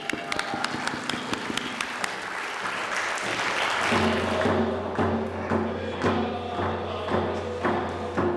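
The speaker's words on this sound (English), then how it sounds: "round of applause and hooray for the accomplishments of these graduates" Audience applause for graduates, brisk scattered claps building into a dense, steady wash of clapping that carries through to the end.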